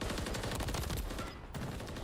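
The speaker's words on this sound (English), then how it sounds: "Things are just exploding." Constant gunfire and explosions in a Call of Duty match on a high-rise control map: a loud, dense, unbroken barrage of shots and blasts with no gaps.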